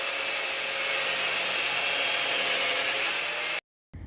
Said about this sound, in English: we take our angle grinder with a cutoff disc and we cut the slots down to the hole from each of those ends